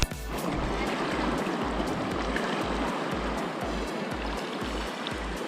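Legs wade through river water in the Zion Narrows, a broad, close rush of churning and splashing water that continues steadily, with a regular low rhythmic thumping running underneath.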